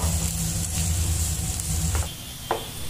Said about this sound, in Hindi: इसमें 2 मीडियम साइज प्याज को कट करके ऐड करेंगे और इन्हें कलर चेंज होने तक फ्राई कर लेंगे